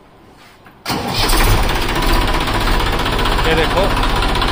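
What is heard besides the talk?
40 HP tractor engine starting and idling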